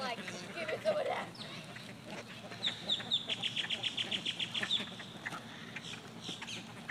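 A flock of hungry birds squawks and clucks like chickens as feed is tossed into the air. Rapid, overlapping calls come in a chattering burst, with people talking nearby.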